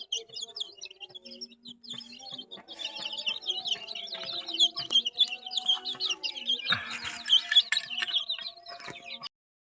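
A flock of village chickens being shut in for the evening clucks and chirps continuously, the calls rising and growing busier through the second half, close by and without talk.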